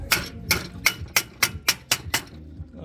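About eight sharp, evenly spaced metallic taps from a plain hammer beating sheet metal on a Fiat Ducato sill during a sill replacement, close and fairly loud, with a short ring after each blow.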